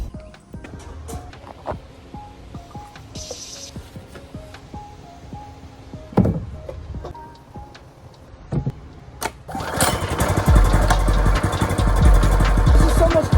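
A Coleman mini bike's small engine is started after scattered handling clatter and knocks, then catches and runs with a loud, steady putter through the final few seconds.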